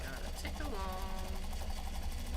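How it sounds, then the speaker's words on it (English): Sewing machine winding a bobbin with black thread, a steady mechanical whir and rattle heard close, with a voice speaking over it. "The bobbin's winding"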